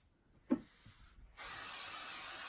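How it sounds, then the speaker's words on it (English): A brief soft tap, then an aerosol can of basting spray sprays onto fabric in one loud, continuous hiss that holds steady to the end. "the basting spray, so just a quick spray"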